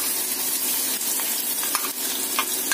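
Onion frying in hot oil: a loud, dense, continuous sizzle and crackle right up close, with small pops and scrapes scattered through it.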